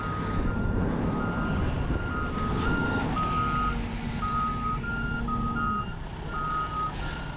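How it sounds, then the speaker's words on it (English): Backup alarms on trucks at a muddy construction site pulse in a steady, regular rhythm, sitting over a continuous low diesel engine rumble. "we've already got trucks backed all the way up to the curve"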